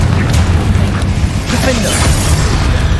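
A Confringo fire spell blasts in Hogwarts Legacy during a spider fight, a loud low booming rumble sustained across the moment beneath game sounds.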